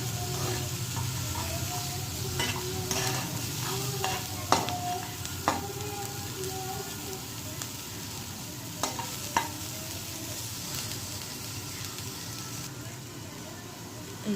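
Potatoes and ginger frying and being stirred in a pan in a home kitchen, a continuous hiss of oil with repeated scraping and clinking of the spatula, close and fairly loud.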